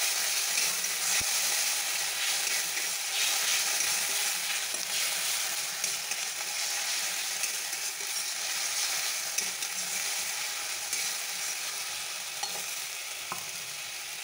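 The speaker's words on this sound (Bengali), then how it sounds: "রসুন, আদা, টমেটো, কাঁচা লঙ্কাটা ভালো করে কষে নেব।" Garlic, ginger, green chili and tomato fry in hot oil with a steady, moderate sizzle and hiss, broken by occasional stirring scrapes of a utensil in the pan.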